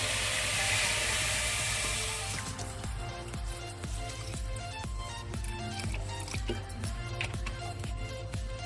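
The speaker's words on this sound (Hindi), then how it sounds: "अब हम चाशनी बना रहे हैं। इसमें हम पानी डालेंगे।" Water poured onto one kilogram of sugar to start a syrup gives a loud, hissing splash at first, then settles into softer trickling and clinking under a steady background hum.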